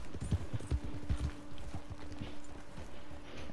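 Horse hooves clip-clop in Red Dead Redemption 2, a quick rhythmic run of close, loud hoof falls that slows and softens into scattered steps over a steady low hum.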